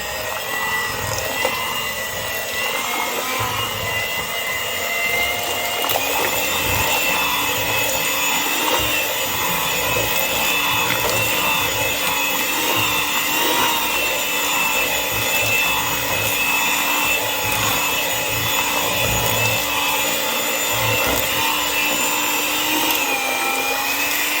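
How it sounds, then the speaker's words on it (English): A steady, high-pitched whirring drone of an electric mixer running continuously, loud and close, with faint scraping underneath. "It's easier than whisking it with your own hands, so I like this mixer."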